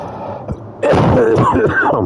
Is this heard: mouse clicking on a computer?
no